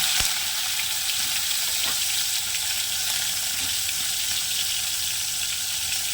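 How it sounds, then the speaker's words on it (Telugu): Minced mutton keema fries in hot oil, a steady, bright, close sizzle that holds evenly throughout, with a faint scrape early on and no voices. "ముందుగా నూనె వేడైంది, మటన్ వేస్తున్నాను"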